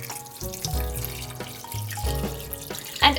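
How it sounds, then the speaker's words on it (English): Garlic miso sauce is poured from a bowl over ribs in a rice cooker: a steady, close liquid stream splashing and trickling for about three seconds, with a few brief surges and a final louder splash. "And then pour our sauce over everything."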